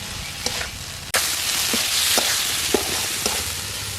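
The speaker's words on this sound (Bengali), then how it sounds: "সব মশলাগুলো ভালো করে কষিয়ে নিচ্ছি।" Spices sauté in a pan with a loud, steady sizzle and crackle, while a spoon scrapes and taps against the metal in a loose, repeating rhythm.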